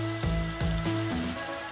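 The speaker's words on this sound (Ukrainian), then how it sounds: "Фарш у нас свино-яловичий, 800 грам. Оставили і починає запечатуватися." Pork-beef mince, 800 grams, frying in a pan, a steady close sizzle with low crackling bursts and no voices over it.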